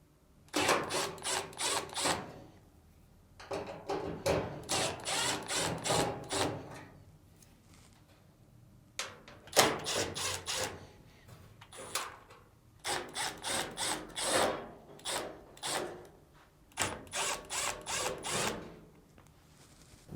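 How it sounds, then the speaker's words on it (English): Power screwdriver backing screws out of the upper frame plate of a Samsung dryer, several short whirring bursts separated by pauses, close and fairly quiet. "Next, remove the screws on the upper frame plate."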